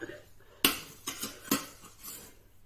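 Rice noodles with wild garlic being stir-fried in a pan, a sharp metal clang of utensil on pan followed by a few lighter scrapes and clinks, fairly quiet and close.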